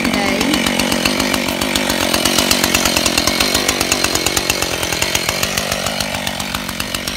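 An old Husqvarna chainsaw idling and revving near bamboo, a loud close engine with a fast rhythmic pulse that holds steady throughout, with no voices.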